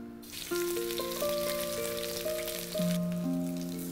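Cumin seeds sizzle in ghee or oil for a dhaba-style egg masala, a steady close frying hiss running throughout under sustained tonal music notes.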